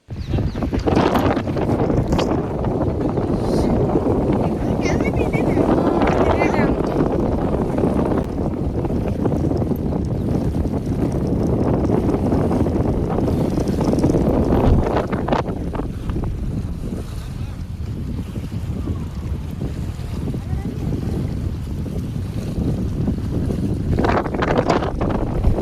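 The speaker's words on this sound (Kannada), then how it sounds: "ಮತ್ತು ಅಷ್ಟೇ ಗಾಳಿನೂ ಸಹ ಇತ್ತು" Strong wind at Markonahalli dam beside a wide reservoir: heavy, continuous gusts buffeting the microphone in a loud, roaring rush, with lapping water beneath and faint voices at times.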